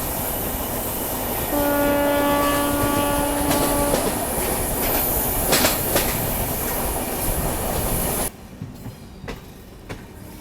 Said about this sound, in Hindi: सामने से कोई तो ट्रेन आ रही है खूबसूरत लिवरी में